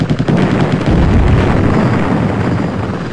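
Apache Longbow attack helicopter's chain gun firing in the game, a dense, loud rapid burst of rattling shots running continuously with booming low rumble, no talk.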